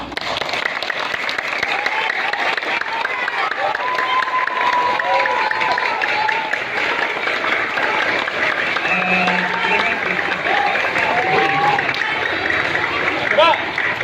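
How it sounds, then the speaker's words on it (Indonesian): Applause from students and staff at an elementary school Heroes' Day flag ceremony on an outdoor field, steady dense clapping with crowd noise lasting throughout. "Kita beri aplaus untuk pemimpin kita."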